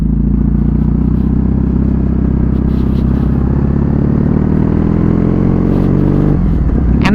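Kawasaki motorcycle being ridden, its exhaust giving a loud, continuous low throbbing drone at an even pace, with wind rush over it and a short rise in pitch near the end.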